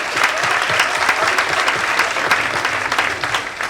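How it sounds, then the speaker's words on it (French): An audience at a memory conference applauds steadily, a dense wash of clapping holding at an even level from start to finish with no voices standing out. "On peut applaudir à toi."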